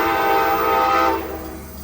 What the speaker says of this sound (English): Once again, this is Amtrak 541 arriving.